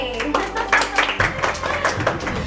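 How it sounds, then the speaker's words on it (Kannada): Hands clap in quick, steady rhythm at a home Deepavali festival gathering, the claps sounding close and clear while people talk over them. "ಸೂಪರ್, ಚಪ್ಪಾಳೆ"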